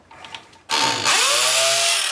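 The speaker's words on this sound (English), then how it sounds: "It's a great drill, but they were not worried about making people deaf when they manufactured it." A very loud power drill starts abruptly after a moment of quiet shuffling, then whines at high speed close by, with a slight shift in pitch as it runs under load.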